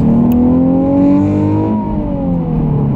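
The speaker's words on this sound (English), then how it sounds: "Now, acceleration this car is impressive." A Nissan 370Z Nismo accelerates hard, its engine note rising and then easing in a loud, close, steady drone with clear harmonic whine and no talking over it.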